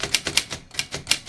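Keys clack on a vintage Remington Rand Deluxe Model 5 manual typewriter, with about six quick, crisp strikes in an uneven rhythm, close and clear with no talk.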